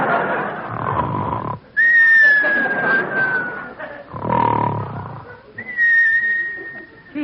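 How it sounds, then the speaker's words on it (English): Whistles in an old film soundtrack, a high sliding tone sounding in several drawn-out bursts over a dense background of orchestral and crowd-like noise, fairly loud throughout. "Now come the whistles."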